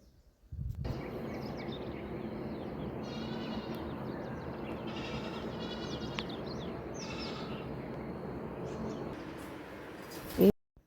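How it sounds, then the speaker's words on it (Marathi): Goats bleat over a steady outdoor hum while birds chirp in quick, high bursts, all at moderate distance. "पक्ष्यांचा किलकिलाट शेळ्यांचा आवाज खूप छान वाटतं आहे"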